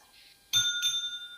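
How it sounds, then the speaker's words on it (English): Two quick rings of a small timing bell at a teachers' debate final, the first sharp strike followed closely by a second, each leaving a short bright ringing tail in a quiet room. "you'll hear the bell. Could you touch it and let them hear?"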